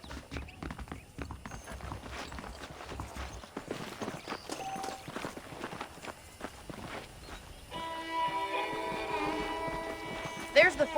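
Rhythmic hoofbeats of saddled horses clip-clopping steadily in Red Dead Redemption, mixed with game ambience and a brief voice; a louder tonal layer joins near the end.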